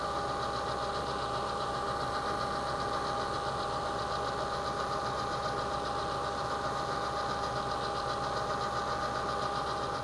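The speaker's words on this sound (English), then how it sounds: "and take a real light finish cut." A milling machine spindle runs an end mill through a very light finishing cut, making a continuous steady hum with a fine ringing whine at an even, unchanging level.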